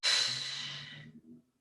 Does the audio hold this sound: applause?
no